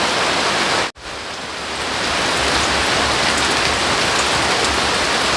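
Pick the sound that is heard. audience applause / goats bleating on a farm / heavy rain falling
heavy rain falling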